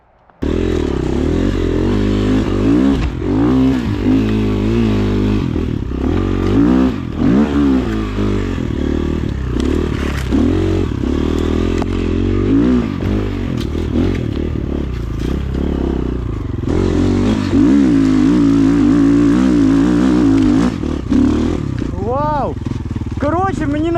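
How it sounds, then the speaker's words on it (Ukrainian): A Rottor Nemesis 250 motorcycle engine runs loud and close, its pitch rising and falling through repeated revving and gear changes, with wind and road noise throughout. "Та 250 солідно валить."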